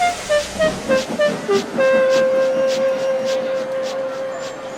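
A steam locomotive whistle toots in short repeated bursts, then holds a long sustained blast over a steady rumbling, hissing background.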